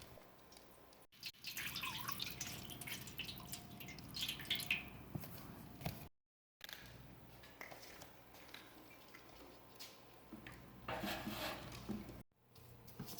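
Water trickling and splashing into the lower tray of an ant-proof food stand, steady for several seconds with brief pauses, alongside faint clinks of a tray.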